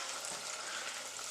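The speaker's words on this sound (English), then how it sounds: "add the chopped pecans to the boiling hot sugar syrup" Hot sugar syrup with vanilla bubbles and sizzles in a pan, a dense, steady crackling hiss heard close up.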